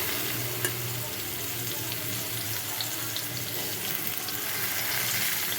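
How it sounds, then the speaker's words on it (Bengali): Banana flower blossom frying in a pan with its juices, a steady dense sizzle running the whole time with occasional stirring scrapes, close and fairly loud, no voices. "এখন এগুলো সব একটু ভাজা ভাজা করে নেব"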